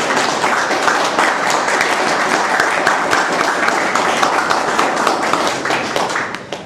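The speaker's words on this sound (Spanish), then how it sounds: "los invito a regalarle un fuerte aplauso" Loud, sustained audience applause at a literary award ceremony, many hands clapping densely for several seconds before tapering off at the end.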